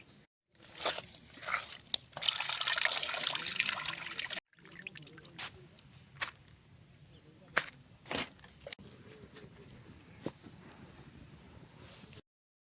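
Fish being washed with water, salt and lemon at a riverside picnic. Water splashes and trickles in uneven bursts, a louder stretch of running water early on, then scattered close clatters and drips.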